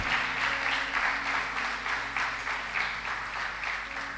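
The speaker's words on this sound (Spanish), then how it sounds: "Dale un aplauso al Señor Jesús." A church congregation claps and applauds for Jesus during a sermon, a steady dense wash of hand claps at moderate level with a faint sustained tone underneath, no clear speech over it.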